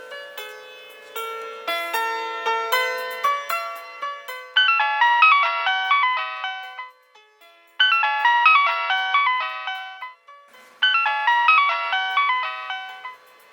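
A mobile phone ringtone plays a bright repeating melody, three or four loud cycles with short pauses between them, heard alone without talk.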